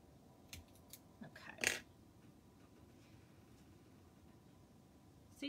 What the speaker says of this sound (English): So I take my small scissors.